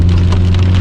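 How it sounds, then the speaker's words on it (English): Heavy rain pours down, a dense, loud, continuous hiss with a strong low hum underneath, steady and unbroken throughout the short stretch. "Today it's raining pretty badly"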